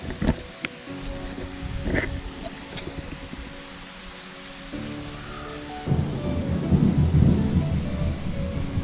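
Thunder rumbles and steady rain fall outdoors near a small fishing boat during a thunderstorm, with low booming swells building louder toward the end over continuous patter.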